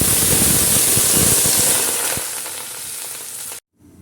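Soaked basmati rice fries in a pot for polao, giving a loud continuous sizzle with stirring scrapes that eases off before cutting abruptly to near silence at the end.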